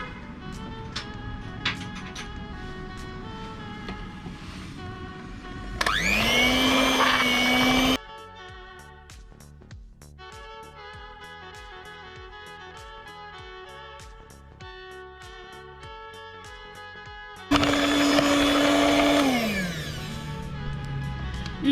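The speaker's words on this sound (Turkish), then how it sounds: "Şimdi onları çırpacağım." An electric hand mixer whisks butter and vanilla sugar for a caramel spoon cake in two loud, whirring bursts of a couple of seconds each, separated by a stretch of light background music.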